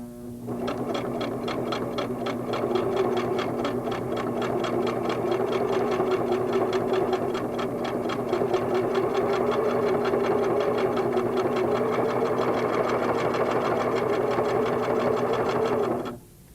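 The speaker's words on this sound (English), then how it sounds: "straight stitch around the applique" A Singer sewing machine straight-stitches around a quilt applique, running steadily and continuously at an even rapid rhythm, close and loud, before stopping abruptly.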